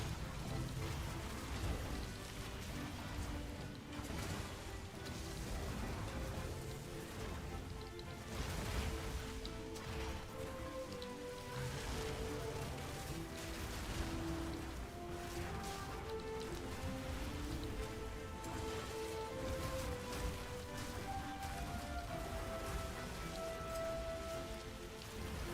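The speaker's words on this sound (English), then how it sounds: "Holy smokes, it's raining so much outside." Heavy rain pouring outside in a dense, unbroken patter and hiss that lasts throughout, with faint tonal sounds and occasional speech underneath.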